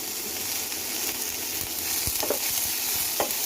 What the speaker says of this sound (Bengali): 3 রকম ক্যাপসিকাম দিয়ে দিলাম। এবার একটু ভাজা ভাজা হলে আমি পেঁয়াজ দেব